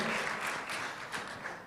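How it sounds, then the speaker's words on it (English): Audience hands clapping at a tourism conference, a dense steady patter of claps filling a hall, moderately loud and continuous throughout, with no voices over it. "You may clap your hands as well for Pak Fajrin."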